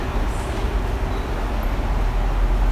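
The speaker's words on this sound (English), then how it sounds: "This train is about to leave, right?" A Tokyo underground train rumbles on the Shibuya Rinkai line, its low steady roar filling a platform. The sound is loud and close, with no talking.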